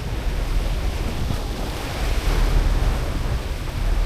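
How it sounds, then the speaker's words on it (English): Water spray from a water salute hisses and roars steadily as the cruise ship Virgin Valiant Lady departs Portsmouth, a broad continuous rush mixed with wind noise. "And the water salute continues."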